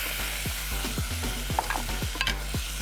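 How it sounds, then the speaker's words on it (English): Tomato puree sizzles in a hot pan while a utensil scrapes and stirs in a repeating rhythm, with a few sharp spits of frying. "Sizzle, sizzle, sizzle."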